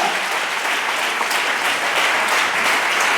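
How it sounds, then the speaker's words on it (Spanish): A church congregation applauds together in a dense, steady wash of clapping that holds at an even level throughout, with no voices standing out. "Den un aplauso al Señor."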